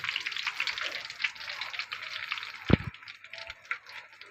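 Cumin seeds frying in hot oil give a steady, close crackling sizzle throughout, with a brief louder knock or clatter near the middle and no talking.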